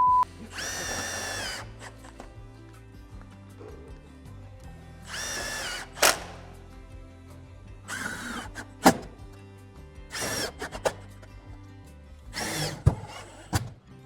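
A power drill drives screws into metal roofing panels near a ridge cap, with repeated loud whirring bursts of a second or so separated by quiet gaps, some ending in sharp metallic clicks, heard close with no talking.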